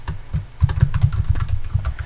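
Someone types on a computer keyboard while entering an axis title into a spreadsheet graph, a close, fast run of uneven clicking keystrokes.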